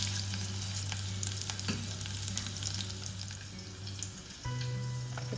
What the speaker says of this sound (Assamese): কেৰাহীত দিছোঁ তেল তেলতে মই পিঁয়াজটো